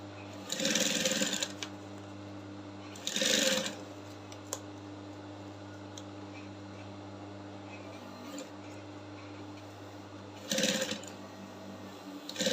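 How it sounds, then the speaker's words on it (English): Sewing machine stitching the bust caging of a corset, in three short bursts of running stitches with quiet pauses in between over a steady low hum. "So as I'm sewing right now"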